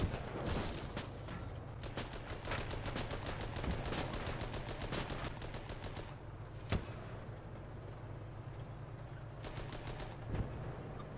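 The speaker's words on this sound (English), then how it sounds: "We'll let the machine gun deal with that" Rapid machine gun fire rattles in the tank combat game Armoured Battle Crew: long, even bursts of closely spaced shots repeat, with one sharper single crack partway through, over a steady engine drone. No voices.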